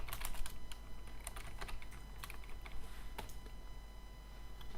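Computer keyboard typing code, quick irregular bursts of close, crisp key clicks over a low steady hum, no talking.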